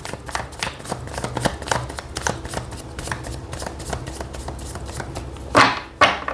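Tarot cards shuffled by hand, a close, continuous riffling patter with a couple of louder flicks and taps near the end, no talking.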